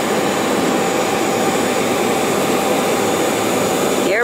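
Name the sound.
jet aircraft engine at an executive airport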